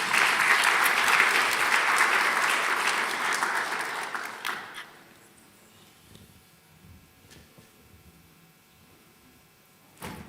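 An audience at the opening ceremony of an annual general meeting gives loud, sustained applause for about five seconds, which then fades out to quiet room noise.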